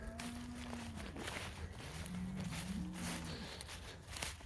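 A cow in a hay pasture on leased grazing land moos twice, low and drawn out at some distance. Faint rustling and footsteps run beneath the calls.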